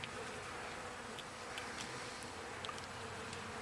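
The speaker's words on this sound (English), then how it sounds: "Aw, bees." Honeybees at a homestead hive buzz faintly and continuously in the background, a soft steady drone with occasional small clicks and no talking.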